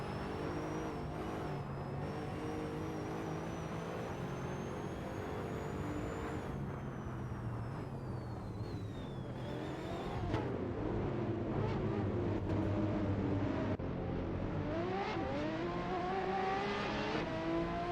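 AI-driven hypercar race cars roar through a racing simulator game, engines wailing continuously with rising and falling pitch as cars pass and shift gears, loud and dense throughout.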